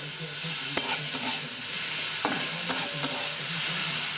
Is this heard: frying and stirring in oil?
yes